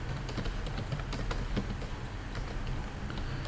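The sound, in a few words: typing code on a computer keyboard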